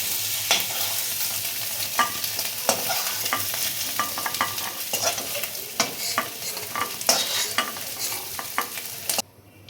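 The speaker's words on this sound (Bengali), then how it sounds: "কচুগুলো আমার ভাজা হয়ে যাচ্ছে" Taro pieces fry in a pan with a steady sizzle, while a spatula stirs them in frequent sharp scrapes and knocks, up close, ending abruptly.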